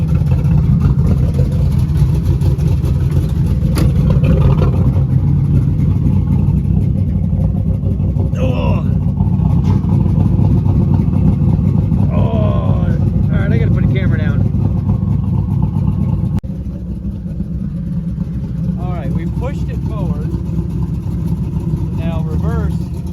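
A Buick Regal with a suspect drivetrain drives in reverse, its engine a loud, steady, close hum that eases slightly partway through, while people talk over it.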